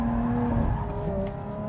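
A Lotus Evora sports car slides its rear out through a corner, its engine holding a loud, close, steady drone with a faint scrubbing edge of tire noise and no voices.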